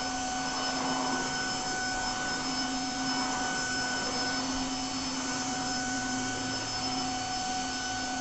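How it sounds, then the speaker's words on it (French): A Tineco Floor One S3 cordless wet-dry vacuum cleaner runs steadily and close by on a floor, giving a constant whirring drone with high tonal whine that never lets up. "donc il aspire les saletés et il nettoie en même temps"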